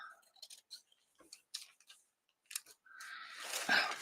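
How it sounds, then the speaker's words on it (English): Scissors cut a woman's figure out of a paper napkin: scattered crisp snips, then a steadier, louder rustling cut through the thin paper near the end, with no talk. "Let's cut her out."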